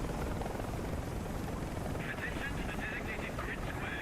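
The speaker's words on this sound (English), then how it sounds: "Actually, I have two helicopters." A helicopter in the War Thunder combat game, an AH-56, drones steadily with a constant rotor and engine wash that holds even from start to end.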